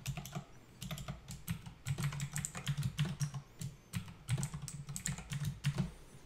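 Rapid, uneven clatter of keys as a password is typed on a computer keyboard, close and steady for several seconds with short pauses between bursts, no voices.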